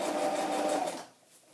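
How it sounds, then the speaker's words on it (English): A sewing machine with questionable thread tension stitches in a steady whirring run for about a second, then stops, leaving quiet room tone. "I'm hoping the tension on my sewing machine has gotten better."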